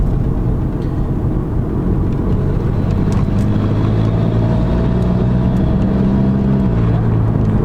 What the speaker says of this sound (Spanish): como acelerando hasta 2000 y pico vueltas suena un poco más